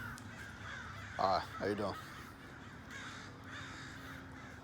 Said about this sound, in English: I gotta get away from these crows.